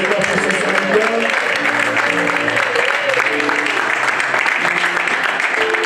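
Church congregation applauding in steady, continuous clapping that fills the room, with voices calling out and singing over the applause.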